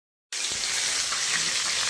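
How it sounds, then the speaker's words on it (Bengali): Rohu fish pieces frying in hot oil produce a steady, close sizzle with fine crackling that starts abruptly and stays loud and even throughout, with no voices. "মাছ আমাদের এক পিস ভালো হয়ে ভাজা হয়ে গেছে"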